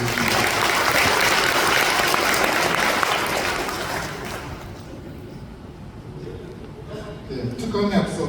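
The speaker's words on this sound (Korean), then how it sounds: "양재원 회장님께 다시 한번 큰 박수 부탁드립니다" Loud, dense applause from an audience at a Korean humanities lecture event fills the first few seconds, then thins out and fades as quieter room noise and voices take over.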